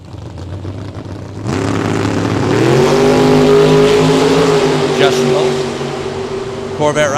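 Corvette drag car launching at a bracket race, a deep engine roar rising sharply in pitch as it accelerates hard, loud and sustained, with commentary heard over it.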